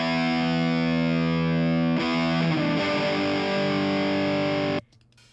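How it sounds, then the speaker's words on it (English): Electric guitar played through a high-gain distorted amplifier, a loud sustained chord that shifts twice and then cuts off abruptly near the end, heard alone. "this is still an amplifier that's definitely distorted"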